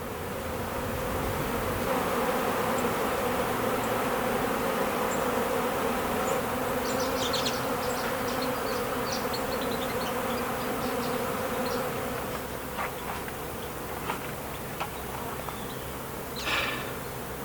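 Honey bees robbing a hive during an inspection, a dense steady buzz of many insects close by, with sharper individual wingbeats passing near now and then, no talk.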